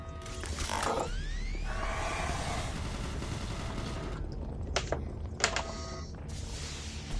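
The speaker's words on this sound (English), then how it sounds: "Warning, automated turret guns online." Automated turret guns in Doom 3 chatter in rapid mechanical ratcheting bursts, continuous and close, with whirring tones early on and a few sharp cracks later.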